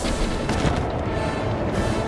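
A cannon is destroyed in The Legend of Zelda: Breath of the Wild, heard as a dense, rumbling burst of booms and crackling blasts that fills the whole short stretch at steady, loud intensity.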